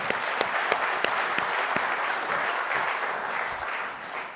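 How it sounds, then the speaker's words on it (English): An audience at a supply chain summit gives a long round of applause, with dense, even clapping close by, a few sharper individual claps on top, and the sound fading slightly near the end. "let's give him a round of applause"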